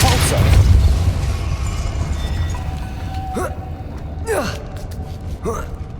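The Depulso spell in Hogwarts Legacy fires off as a series of sharp, descending magical whooshes, three bursts spaced a second apart over a rumbling game ambience.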